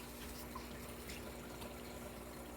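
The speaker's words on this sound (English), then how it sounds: "Drip system is working amazing." Faint, steady trickle of water from a DIY fish tank sump drip system, a continuous soft splashing with a low hum beneath it.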